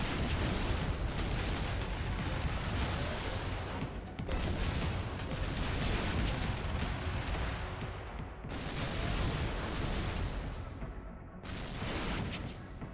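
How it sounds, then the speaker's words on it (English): Heavy cannon fire from the bruiser cannon in the game Sky Cannoneer, a dense sustained roar of blasts and rumbling impacts that fills the whole stretch with only brief dips between volleys. "Fire the bruiser cannon to disrupt its powerful attack."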